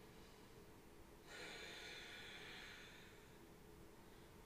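A slow inhaling breath during a seated yoga twist, a soft airy rush that swells for about two seconds, close and fairly quiet, with no talking.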